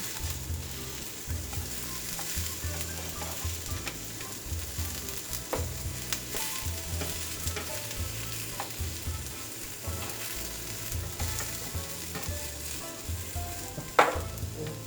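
Onion and tomatillos roasting on a stovetop set to high give a steady, close sizzle and crackle that runs the whole time, with a few sharp clinks near the end.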